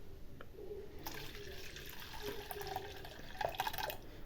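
Tamarind solution is poured into a pan of frying onions, giving a faint, close liquid splash and trickle with soft sizzling and a few light clinks, no voices.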